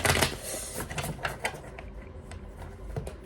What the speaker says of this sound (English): I'm going to do a little shuffle.